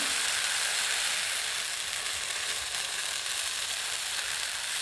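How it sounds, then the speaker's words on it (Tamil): Wheat rava adai dosa batter, poured thick, sizzles steadily on a hot pan, a continuous loud frying hiss with no voices. "இப்போ அடை தோசை ஊற்றிக்கலாம் கொஞ்சம் மொத்தமாக ஊற்றிக்கும் போது சரியாக இருக்கும்"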